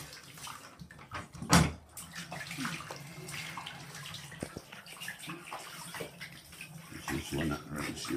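A dog being bathed in a tub, with water running and splashing, sloshing bursts and a sharp splash early on, plus occasional animal snuffles and faint talk in the background.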